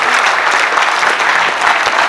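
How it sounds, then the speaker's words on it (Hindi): Audience applause at a humorous poetry gathering held at a girls' college, a short burst of lively, dense clapping from a crowd at steady volume. "तो जोरदार ताली बजाओ आज की महंगाई के लिए।"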